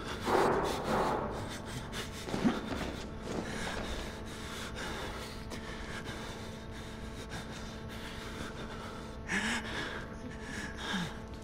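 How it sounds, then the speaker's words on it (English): Heavy, loud breathing of the player character in the Outlast video game, with gasping inhales and rough exhales repeating close up over a steady low drone. "why are you breathing so loud?"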